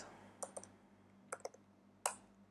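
A few sparse, light keystrokes on a computer keyboard while a command is entered to open an SSH session on a Raspberry Pi, heard as separate soft clicks in small clusters over a quiet room hum.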